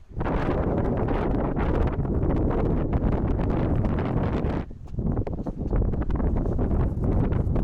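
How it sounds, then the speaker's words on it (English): Strong wind buffets a mountain trail in a continuous loud roar with gusts, briefly easing near the middle before surging again. "We'll see how windy it stays, or if it gets even stronger as we get higher."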